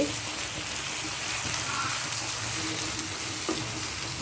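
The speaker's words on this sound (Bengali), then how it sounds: "ভালো করে একটুখানি ভাজা ভাজা করে নাড়ানাড়ি করি" Continuous soft sizzling of poppy seeds frying in a pan, with faint scraping from stirring throughout.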